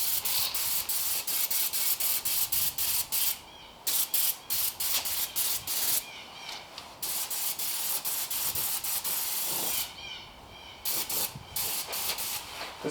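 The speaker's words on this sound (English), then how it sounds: "This sprays a whole lot more than the airbrush gun, so have to be careful not to overdo it." Bursts of a spray gun hissing dye onto a BMW E39 car seat during an interior restoration, loud and close, with several short pauses between long sprays.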